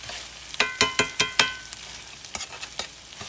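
Cabbage softening in a pan, cooked down for a garlic parmesan cabbage dish, with about five evenly spaced sharp stirring scrapes, then a few lighter, scattered clatters and a soft background hiss.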